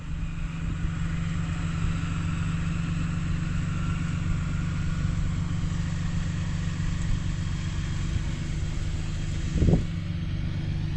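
An off-road vehicle's engine idles steadily during a winch recovery on a trail, a close, continuous low rumble that holds even throughout, with a brief thump near the end.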